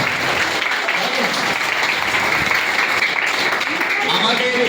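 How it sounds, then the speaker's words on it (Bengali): An audience claps loudly for a student after his presentation on the history of India's national flag, a continuous broad patter of applause with voices mixed in underneath. "ওর জন্য একটা জোরে হাততালি হওয়া"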